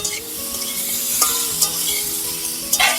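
Soft cooked mango and cucumber are turned in a pan, with a low steady sizzle under occasional spatula scrapes and taps, close and alone with no talk.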